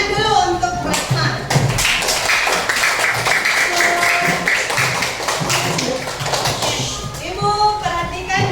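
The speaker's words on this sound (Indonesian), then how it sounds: "Tepuk tangan dulu untuk Rahma." Classmates clap for a student named Rahma in a middle school classroom, a dense burst of hand claps filling the room over chatter and shuffling, with voices mixed in throughout.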